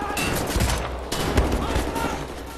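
Sniper rifle fire in the World War shooter Wolfenstein: The New Order comes as a dense string of sharp gunshots and impacts over a continuous noisy background, with a voice talking underneath.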